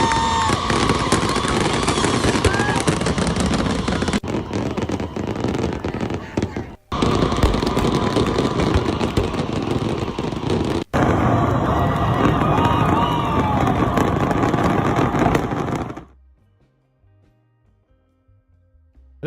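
Firework mortar blasts going off into a crowd at an American celebration, a dense, continuous barrage of loud bangs and crackles with a crowd's noise mixed in, broken by two brief dropouts before it cuts off.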